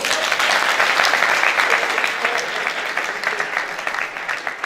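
Sustained audience applause, dense and loud clapping from a crowd at a motivational talk, steady for several seconds and easing slightly toward the end.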